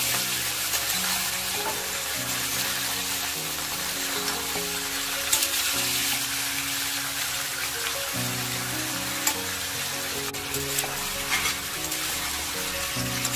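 Chicken fries in an uncovered pan with a loud, dense, continuous sizzle and crackle that holds steady throughout.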